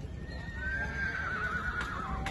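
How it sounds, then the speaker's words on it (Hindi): A black horse at a horse fair gives a clear, drawn-out whinny that wavers and falls in pitch, close and fairly loud over a low background murmur. "अरे उसका ब्लैक घोड़ा।"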